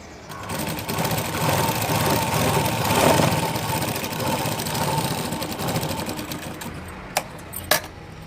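A sewing machine stitches a blouse in a continuous, close, whirring run for several seconds, then stops, followed by a couple of sharp clicks near the end.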